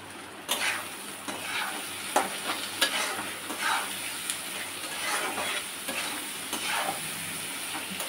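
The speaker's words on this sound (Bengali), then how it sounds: "নাড়াচাড়া করে নিচ্ছি।" Salted food frying in a pan while being stirred. A steady sizzle runs throughout, broken by irregular scraping strokes of the spoon against the pan, with no voices.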